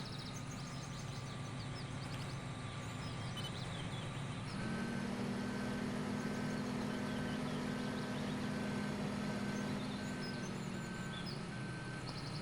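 A tractor in the Farming Simulator 15 game rumbles at a low, steady idle; partway through the engine note rises and a regular electronic beeping joins it, repeating evenly until the end.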